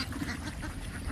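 Local country ducks in a rural Bangladeshi village quack repeatedly and close by, their calls dense and continuous across the whole moment with no talking.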